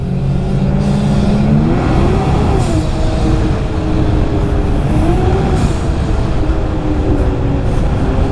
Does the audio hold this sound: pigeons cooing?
no